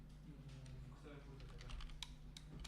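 Clicks of someone typing on an unfamiliar computer keyboard during a C# programming lesson in Unity, fairly quiet and irregular over a low steady hum, with faint voices in the background.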